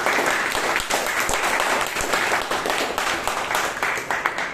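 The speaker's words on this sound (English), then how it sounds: "for Rashi, let's give a round of applause." Steady applause from a room of attendees at a Bangalore Toastmasters meeting, a continuous mass of clapping at even loudness with a few distinct sharper claps standing out.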